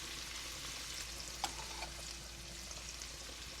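Shrimp frying in a pan for Cajun pasta, a steady soft sizzle running throughout with a brief clink near the middle, no talking.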